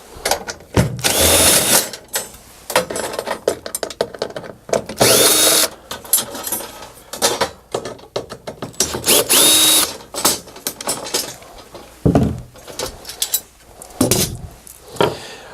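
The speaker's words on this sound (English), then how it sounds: "using a T27 Torx bit, we're going to remove these 3 screws." A power drill with a T27 Torx bit backs out three screws from the grill of a Phoenix DryMAX XL dehumidifier, with loud repeated whirring bursts and ratcheting between pauses.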